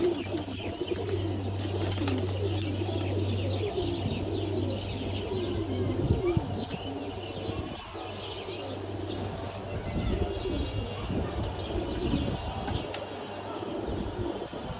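Old female pigeons in a loft after feeding, cooing steadily with a low, continuous murmur, scattered chirps and occasional bursts of wing flapping, close and fairly loud throughout.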